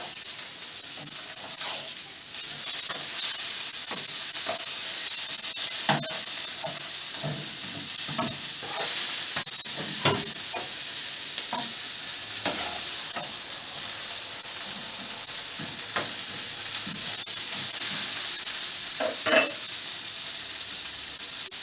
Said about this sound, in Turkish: Ekmeği kızaracak şimdi biraz daha.